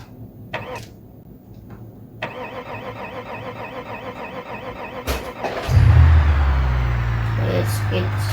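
A car starting up in a driving video game played on a Thrustmaster TH8S shifter setup: clicks and a brief crank, then the engine catches and settles into a loud steady low idle, with someone talking beforehand.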